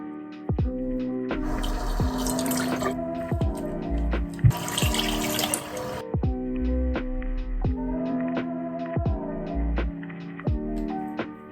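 Tap water runs into a bathroom sink for face washing, coming in two broad rushing bursts over steady background music.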